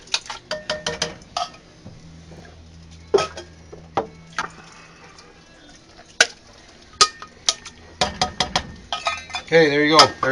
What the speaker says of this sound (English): Give it a quick little stir.